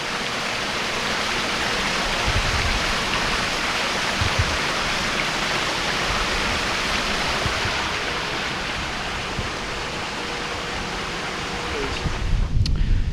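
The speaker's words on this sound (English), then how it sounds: "Good waterfall right there." Steady rushing water from a waterfall at a hidden Native American village campsite, a continuous broadband roar close by with no voices, a few low thumps near the end.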